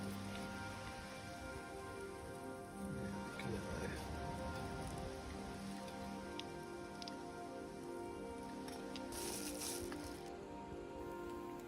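Steady rain patters on surfaces all around at a wild camp in the Lake District, a soft continuous hiss with scattered drips, fairly quiet and unbroken throughout.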